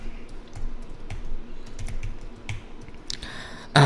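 Random letters typed on a computer keyboard, a quick irregular run of close, crisp key clicks continuing steadily with no talking.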